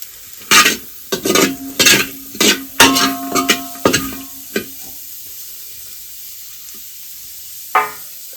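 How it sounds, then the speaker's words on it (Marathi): Onions sautéing in oil for mutton curry, a series of loud scraping stirs and sizzling bursts in uneven rhythm, then quieter with one last stir near the end; no talk. "कांदा कांदा मस्त परतून घेऊन मस्त आपण आता मटण टाकणार आहे"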